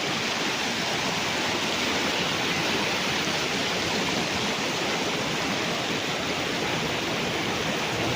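A river current flows beside a farm lot in Liliw, Laguna, a steady, even rushing wash of water that fills the scene without a break and with no voices.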